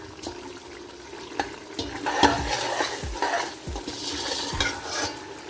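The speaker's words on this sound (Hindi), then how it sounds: "तो इसको हम थोड़ा सा भूनेंगे, उसके बाद फिर हम इसमें आलू ऐड करेंगे।" Pulao masala fries in a pot to a steady sizzle, while a spoon stirs and scrapes against the metal in repeated clanks.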